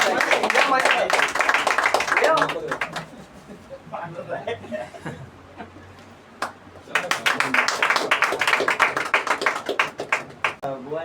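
Audience at a bhajan class abhang competition prize ceremony clapping loudly in bursts, a dense patter that fades to a quieter stretch before swelling again, mixed with chatter and light laughter.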